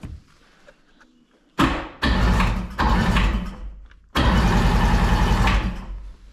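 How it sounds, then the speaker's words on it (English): Starter cranking a Rotax 717 two-stroke jet ski engine with the spark plugs out and a compression tester fitted, in three loud close bursts separated by brief pauses after a quiet start. "blip the starter"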